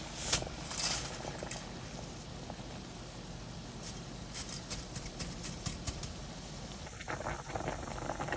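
Spaghetti boiling in a salted pot of water for a Senegalese Maïga dish, a soft steady bubbling hiss with small pops and clinks, faint and close, no talking.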